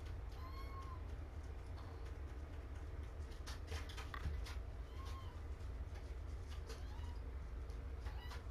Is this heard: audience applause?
no